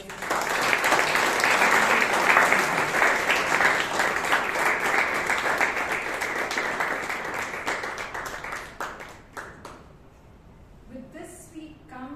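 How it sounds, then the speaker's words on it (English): A Bangalore Toastmasters meeting audience claps in a warm round of applause that stays full for several seconds. It then thins to scattered claps and fades, with faint voices near the end. "let's give her a round of applause"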